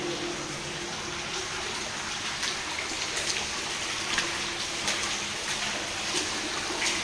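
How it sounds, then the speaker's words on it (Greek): Water drips and trickles steadily from the ceiling of an underground stream tunnel beneath Marousi, a continuous wet hiss with scattered sharper drops echoing in the enclosed space. "νερά από παντού στάζουν εδώ, από όλο το ταβάνι"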